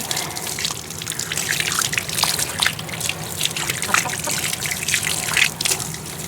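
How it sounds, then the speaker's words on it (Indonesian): Running water trickles steadily from a tap as hands are washed outdoors in a home side garden, a continuous close splashing with no talk. "sekarang kita cuci tangan"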